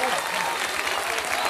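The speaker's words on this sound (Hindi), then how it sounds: "आपकी तालियों की गड़गड़ाहट" A crowd at a gathering claps, dense steady applause filling the short stretch at an even level with a faint murmur of voices.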